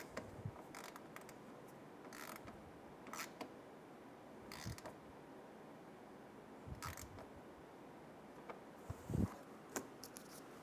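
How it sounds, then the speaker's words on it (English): A socket wrench tightens a bolt while a fog light kit is fitted to a 2007-2012 Nissan Altima, giving faint, scattered bursts of ratcheting clicks over a quiet background, with no talking. "Grab your socket and snug it down."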